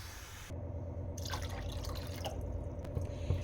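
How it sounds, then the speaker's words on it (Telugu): Water pours steadily into a pan onto sugar for about three seconds while making halwa, a continuous close splashing stream with no talking. "రెండు కప్పులు వాటర్ వేసుకోవాలి"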